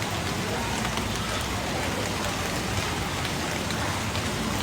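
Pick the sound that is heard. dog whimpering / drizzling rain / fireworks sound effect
drizzling rain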